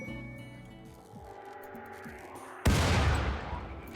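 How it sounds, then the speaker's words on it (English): Mortars firing high explosive shells in RimWorld, a low rumbling buildup with faint thuds followed by one sudden loud blast whose noisy roar lingers and slowly fades. "Man gave the order to man the mortars, and they began to hurriedly load the high explosive shells"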